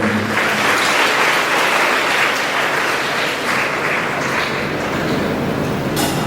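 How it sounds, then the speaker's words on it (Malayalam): Steady, dense applause from a large audience at a school jubilee anniversary celebration fills the hall, loud and sustained throughout with no break, clapping without any speech over it. "കൈയടിക്കണം"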